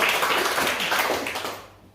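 A church congregation applauds together, a dense burst of many hands clapping at once that stays steady and fairly close before quickly thinning and fading away within a couple of seconds, with no voices over it.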